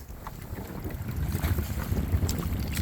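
Strong wind buffets the microphone on rough water while a slow kayak is out for fishing. A steady roaring rush of wind and choppy water runs continuously and close throughout.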